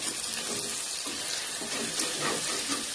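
Chili powder and asafoetida sauté in a pan while making moong dal sambar, a continuous loud, hissing sizzle with no voices over it.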